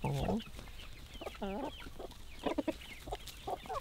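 Close, short throaty clucks from a rooster, a few scattered calls with brief pauses between them.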